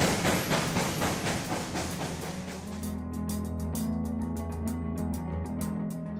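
A train passes on a railway track, with a loud rushing roar easing into a steady low hum and a quick run of rhythmic wheel clicks toward the end.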